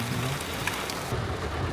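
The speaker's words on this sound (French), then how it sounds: "Ah, grosse pluie!" Heavy rain during a safari in Namibia, a dense steady hiss of falling water with a few faint rumbles beneath and no voices.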